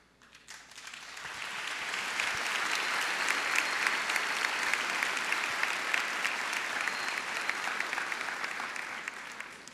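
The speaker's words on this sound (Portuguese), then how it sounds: "Acho que vocês não aplaudiram a pouca vergonha," An audience applauds a speaker at a Catholic sermon, a dense, sustained wash of clapping that swells in over the first two seconds and then holds steady, loud and full, with no talk over it.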